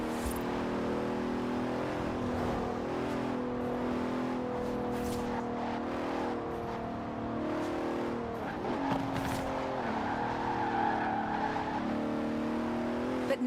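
A Bentley Continental's engine in Forza Horizon 4 revs steadily and rises through gear changes, with a brief tire squeal partway through. The engine is loud and close throughout, with no voices.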